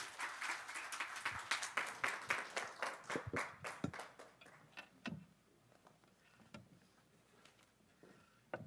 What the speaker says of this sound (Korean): 박수로 우리 환영하며 맞이하겠습니다